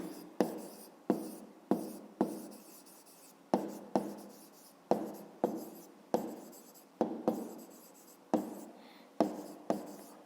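A pen writes an answer by hand for a fifth-grade maths exercise, in close scratchy strokes that come in short bursts with brief pauses between them, quiet and without speech.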